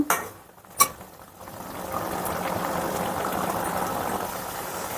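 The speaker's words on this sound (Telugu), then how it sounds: "ఈ వాటర్ అంతా ఎగిరిపోయేంత వరకు బాగా ఫ్రై చేసేసుకోవడమే" Prawns cooking with gongura leaves sizzle and bubble in a pan as their water cooks off, starting after a brief clatter and settling into a steady, close, boiling-like hiss.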